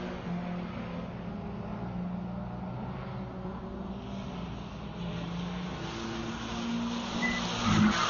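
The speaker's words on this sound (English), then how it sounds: "he's out there and he's killing it in the 718." A Porsche 718 Boxster convertible drives a lap at Buttonwillow raceway during a GTA season finals session. Its engine drones steadily at a distance, rising slightly in intensity toward the end amid broad track ambience.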